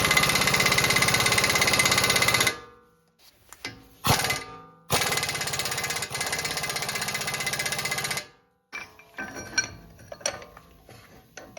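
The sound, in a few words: impact wrench on wheel bearing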